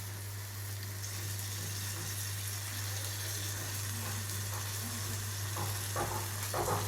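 Tamarind pulp hits hot tempering oil for chilli thecha, a steady close sizzle with a few soft stirring knocks near the end, set over a constant low electrical hum.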